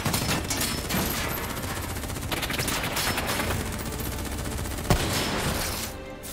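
Sustained heavy gunfire in Call of Duty Black Ops 3 on Xbox, dense automatic bursts over a constant battle din with a sharp louder crack near the end before it tapers.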